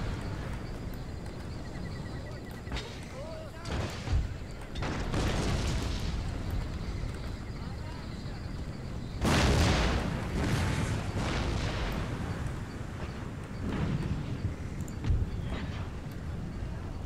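Musket volleys and artillery booms from an Empire: Total War siege battle, with dense bursts of firing and a heavy blast near the middle over a steady battlefield din.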